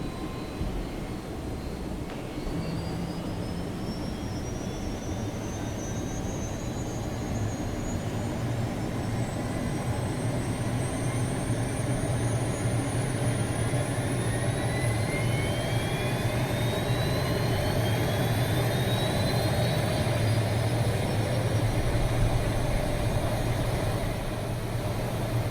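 Naval helicopter engines spool up in the Sea Power combat game, a steady turbine whine with rising high-pitched tones building over a constant low roar, sustained and fairly even in loudness throughout.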